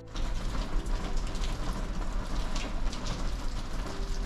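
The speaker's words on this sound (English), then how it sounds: "Ang gaya maririnig nyo, parang mga hail. Pero tubig yan, nagaling dito sa taas." Water drops fall from high Antarctic ice into the water below, making a dense, steady pattering like hail that continues without a break, fairly loud and with no voices.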